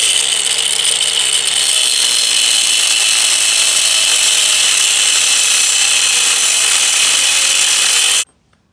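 A power tool cuts through a car's exhaust hanger, giving a loud, steady high-pitched grinding whine that runs unbroken for about eight seconds and then stops abruptly.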